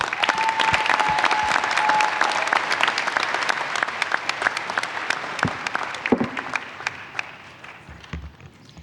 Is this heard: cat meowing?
no